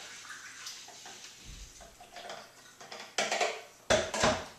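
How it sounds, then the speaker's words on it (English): C-41 developer chemistry is poured quickly into a Jobo developing tank, making close splashing and gurgling liquid sounds that build toward a couple of louder sloshing bursts at the end. "So pour it in as quickly as you can."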